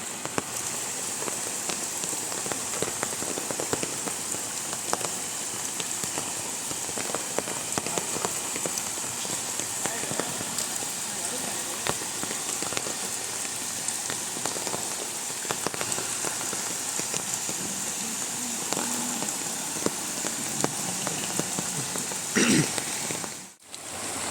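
Steady rain patters down on a river fishing spot in Kankavli, a continuous even hiss of drops with no voices, ending in a brief louder knock.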